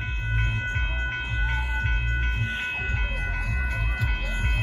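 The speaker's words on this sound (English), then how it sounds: "Well, there goes the Amtrak." Amtrak's southbound Texas Eagle passenger train rolls past at a road crossing in Austin, Texas, with a heavy low rumble, rhythmic wheel clatter and a sustained horn tone, loud and close, with a few voices underneath.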